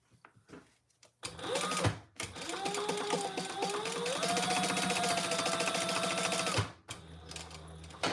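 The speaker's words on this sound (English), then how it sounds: "Now we're going to stitch, top stitch here." A sewing machine runs steadily, top stitching a trifold wallet, with a loud continuous whir for about five seconds, then stops into quieter room noise.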